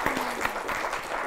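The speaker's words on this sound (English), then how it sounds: "Let's give a round of applause." Audience applause at an entrepreneurship session, a short burst of steady, moderately loud clapping from a group, with a faint tonal hum underneath.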